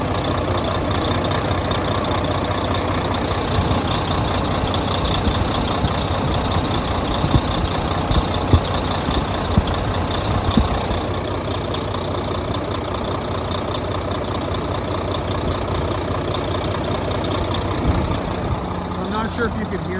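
A steady truck engine idles throughout, a constant low rumble with a mechanical hum, continuous and fairly loud.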